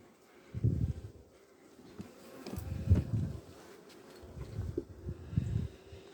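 Honeybees buzz at a hive in uneven swells close by, several loud passes rising and fading over a low background hum.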